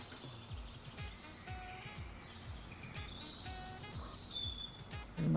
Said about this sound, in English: Just listen to the birds of the forest.